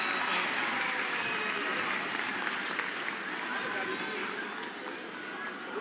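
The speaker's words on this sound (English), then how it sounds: "Listen to that crowd" A hometown crowd at a Masters curling match cheers and applauds in a steady, dense roar of clapping and voices that fills the arena with no pause.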